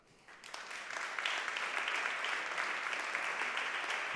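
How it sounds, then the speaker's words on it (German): An audience at a conference opening event bursts into steady applause that swells quickly after a brief pause and holds, dense and moderately distant, with no voices over it. "Also auch für die schon mal einen großen Applaus."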